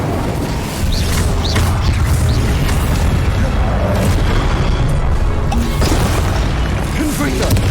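Incendio fire spell cast in Hogwarts Legacy on PS5, a loud, close booming burst with rumbling crackle that persists throughout, while a voice speaks over it.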